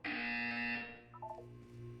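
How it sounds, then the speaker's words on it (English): A buzzer in the Portal 2 video game sounds one loud, harsh, sustained electronic tone for under a second, then fades into a few soft, lower electronic blips. "You will hear a buzzer."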